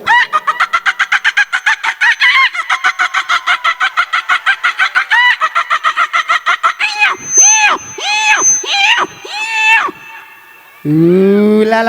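A comedian on stage vocally imitates a hen flapping and squawking: a long run of rapid, loud, rhythmic clucks, then several drawn-out rising squawks, ending with a brief spoken line.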